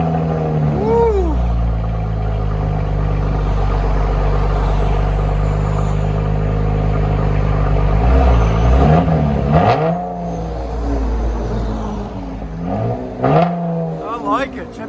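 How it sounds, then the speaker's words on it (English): A Chevy Camaro 3.6L V6 fitted with Borla ATAK exhaust and an X-pipe idles with a deep steady drone, then rises through several sharp revs and falls back, loud and close, with a voice briefly over it. "Chevy Camaro with BORLA ATAKs and X-Pipe."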